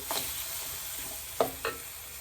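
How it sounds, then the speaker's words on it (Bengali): Spice paste for a fish-head dish is stirred and fried in a pan, a low sizzle punctuated by a few distinct scraping clinks of the spoon, close and moderately quiet. "মশলাটা ভালো করে কষে নেব"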